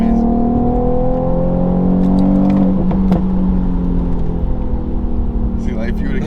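Tuned Infiniti Q50 car accelerating hard, a loud close engine drone rising in pitch with a gear change partway through, heard from inside the cabin with people talking over it.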